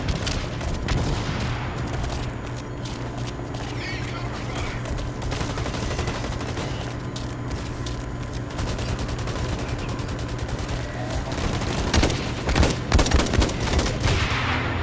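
Gunfire in the BlackLight video game's training grounds, rapid machine-gun style bursts layered over a dense, continuous game soundscape, growing louder and punchier in the final seconds.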